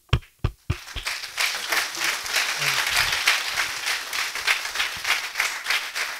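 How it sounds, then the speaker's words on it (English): A symposium audience at a renewable energy and thermal sciences event breaks into sustained applause after a few sharp opening claps, while a voice speaks briefly over it. "So let's give you a round of applause."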